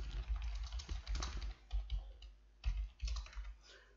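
Keywords typed into an article on a computer keyboard, a quiet run of rapid key clicks in irregular bursts with brief pauses, close and alone with no voices.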